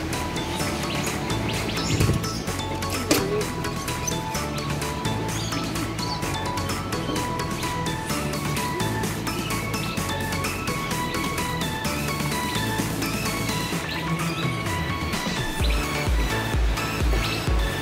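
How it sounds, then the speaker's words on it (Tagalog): Many birds chirping and calling together in a Hong Kong park aviary, a dense, busy chorus of overlapping tweets and whistles that continues without pause, fairly close and loud. "Ibang kulay, iba't ibang klase ng ibon."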